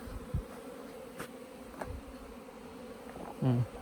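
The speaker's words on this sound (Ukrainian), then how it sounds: "Ну, Бджола пішла на обліт." A steady, low hum of many honeybees buzzing as they fly out of the hive on their first winter-to-spring cleansing flight, soft and continuous, with a few faint clicks and no talking.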